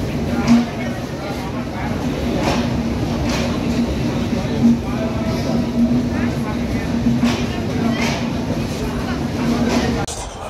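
Ambient rumble and crowd murmur on the platform at Dhaka Airport railway station while waiting for the Kalni Express, a steady hum with people talking throughout and occasional clanks.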